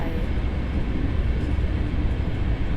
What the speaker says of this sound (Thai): เปินรถไฟ